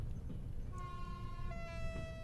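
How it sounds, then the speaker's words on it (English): A train passing in the Trans-Siberian Railway Simulator game: a faint, low rumble with thin, sustained tonal whines that rise in and hold, heard alone at low level. "Another train passing here."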